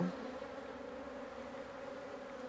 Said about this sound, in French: Il y a de très belles abeilles.